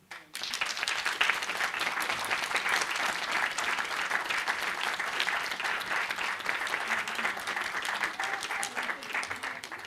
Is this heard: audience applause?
yes